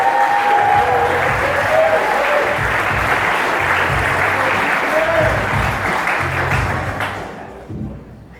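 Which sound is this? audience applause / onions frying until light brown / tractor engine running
audience applause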